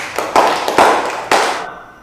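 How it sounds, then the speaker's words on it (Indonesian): A small classroom group claps in a few sharp, spaced bursts, close and fairly loud, with a brief ringing tail after the last clap. "Berikan tepuk tangan kepada kelompok 1."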